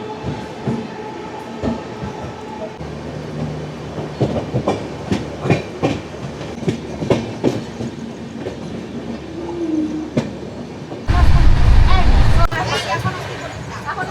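Rails clatter and rumble steadily aboard the Padatik Express, train 12378, running from New Jalpaiguri to Sealdah in a sleeper class coach. Passengers chatter, and the roar swells loudly near the end.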